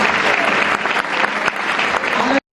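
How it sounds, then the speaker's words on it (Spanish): Congregation clapping in a church service held inside a prison, steady dense applause filling the space, close and loud, cutting off abruptly at the end. "Si quiere darle un aplauso al Señor."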